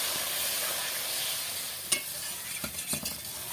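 Hot water poured onto fried masala for a Bengali pabda fish curry and stirred, a soft steady hiss followed by a few sharp scraping and clinking stirs near the end, no voices.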